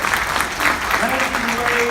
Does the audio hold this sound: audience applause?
yes